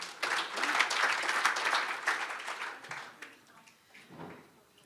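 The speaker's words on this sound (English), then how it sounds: "Give her a round of applause." An audience at a swimming club's annual general meeting and awards evening claps. The applause is dense and steady for about three seconds, then thins and fades to scattered claps near the end.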